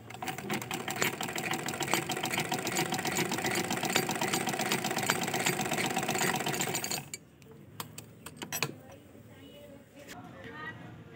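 A domestic sewing machine runs and stitches for about seven seconds, a loud, close, steady rapid mechanical chatter, then stops, leaving quieter clicks and handling noises; someone talks in the background.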